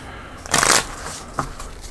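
Board game cards for Outpost: Siberia being shuffled, a dense riffling burst followed by a shorter brisk flick, close and clear with no talking.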